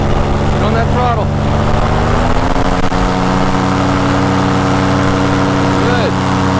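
Powerboat engine at a speed bar anniversary outing, droning loud and steady then rising in pitch as the throttle opens, close and continuous, with people talking over it.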